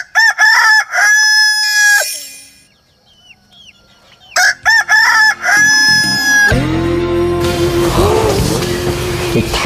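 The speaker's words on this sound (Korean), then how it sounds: "닭이 너무 우네요, 진짜." A rooster crows loudly and repeatedly at dawn at a traditional house in rural Vietnam, each long harmonic crow close by, with a gap of quiet between calls and a steady noisy background near the end.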